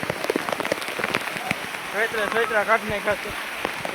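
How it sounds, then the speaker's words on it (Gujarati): Heavy rain pours onto the stone steps of Girnar mountain in a steady, dense patter, while people talk loudly over it. "વરસાદ ભાઈ અત્યારે ફૂલે ફૂલ પડ્યો છે"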